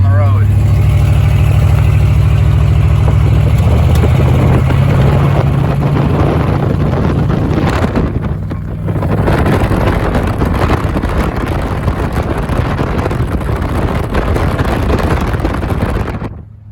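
A 1968 Pontiac Tempest engine drones steadily from inside the car while driving, a loud continuous low rumble with wind noise, a brief dip midway, and someone talking over it.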